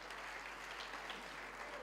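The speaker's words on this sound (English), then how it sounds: "A round of applause for Ezinkokeli and the academic leadership" A university graduation audience claps in a sustained round of applause, many hands blending into a steady, even patter heard from a distance in a large hall, alone without talk.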